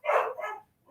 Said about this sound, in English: I'm assuming that dog's barking behind me.